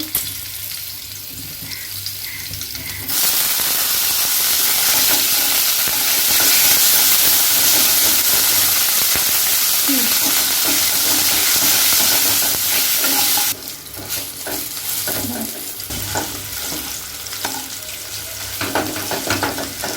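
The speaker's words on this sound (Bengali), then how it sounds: "আদাটা একটু ভেজে নেব।" Ginger paste and slit green chillies frying in oil with five-spice tempering for shukto, a loud bursting hiss in the middle that settles to a steadier sizzle with stirring.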